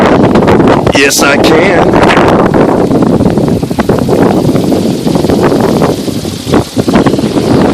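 Strong wind buffets the microphone on a sailboat, roaring loud and unbroken throughout. Someone speaks briefly under the gusts.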